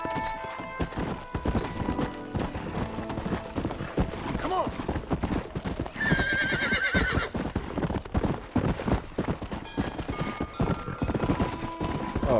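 Horse from the game Red Dead Redemption, clip-clopping hooves in a steady trot throughout with a clear whinny midway, all under continuous game music and ambience, with some talk.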